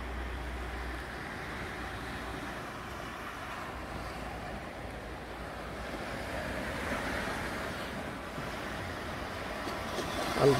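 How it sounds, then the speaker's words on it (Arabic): Rough sea waves break and wash continuously along the coast at Al Hoceima, Morocco, in the early morning, a steady loud roar mixed with wind buffeting the microphone and swelling slightly toward the end. "البحر عباد."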